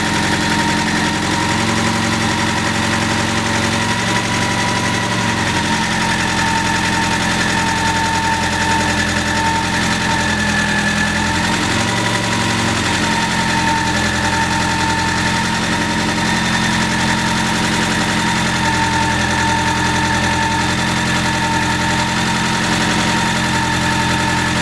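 Alfa Romeo 145 Cloverleaf engine idling after a restart during restoration, a steady close-up rumble with a constant mechanical tappety clatter while oil circulates, running alone without talk.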